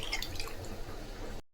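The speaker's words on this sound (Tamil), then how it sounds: "இப்போ நம்ம தேவையான தண்ணி இதுக்கு சேர்த்துக்கலாம்." Water is poured into a rasam mixture made with rasam powder, giving a brief, close, soft trickling splash that stops abruptly.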